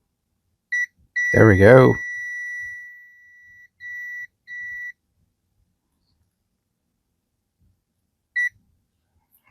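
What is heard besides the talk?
multimeter continuity beep while probing pins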